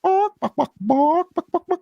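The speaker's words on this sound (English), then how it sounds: "there's some chickens out there" Several chickens cluck nearby outdoors, a couple of drawn-out tonal calls mixed with short rhythmic clucks in quick succession, with no talking over them.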